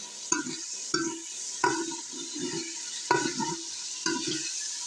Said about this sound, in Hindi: आप ये देख रहे हैं मैं प्याज भून रहा हूँ।